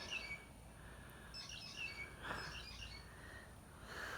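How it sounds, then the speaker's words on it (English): A small bird up in a tree gives a few high, thin chirps at scattered moments over quiet outdoor background hiss, faint and somewhat distant. "Oh no, it's a bird up in the tree."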